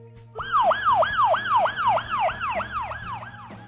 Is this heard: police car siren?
yes